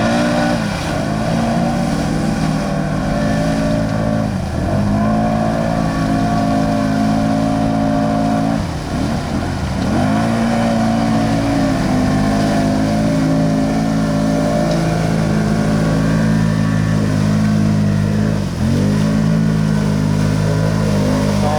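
Can-Am Renegade XMR 1000R mud quad idling loudly up close, its engine rumbling steadily with several sharp revs and throttle blips that rise and fall in a rough rhythm.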